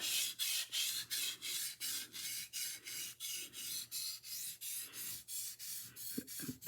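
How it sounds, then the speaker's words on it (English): A knife blade scrapes rhythmically across a sharpening stone to flatten its bevel, a steady series of close, dry rasping strokes roughly two per second with no talking. "make sure that that whole bevel area is getting ground"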